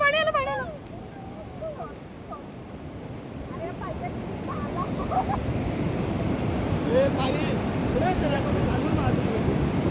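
Sea waves wash in on a rainy day at Alibag with a rising, rushing surge and wind buffeting the microphone, while people talk and call out over it.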